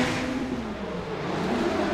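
A drift race car powering around the last corner in qualifying at Sochi, a continuous loud engine roar held at high revs throughout.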